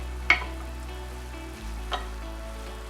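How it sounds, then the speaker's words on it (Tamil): Mint and coriander leaves sautéing with onions in a pan: a low, steady sizzle with two brief sharp stirring clatters, fairly quiet and without voices. "இது கூட நான் இப்போ புதினா தழையும் கொஞ்சமாக கொத்தமல்லி தழையும் சேர்த்து வதக்க போகிறேன்"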